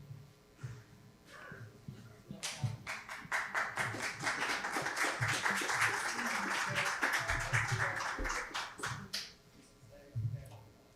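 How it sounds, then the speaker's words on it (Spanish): A small audience applauds at the close of a literary lecture session, a steady burst of clapping that swells for several seconds and then tapers off, with a voice speaking briefly before and after. "definitivamente un merecido aplauso para las dos abogadas lectoras que hoy nos acompañaron"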